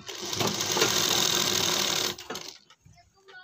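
A sewing machine runs a fast, steady stitch along the neck edge of a kurti collar for about two seconds, then stops abruptly and leaves a few quiet handling sounds.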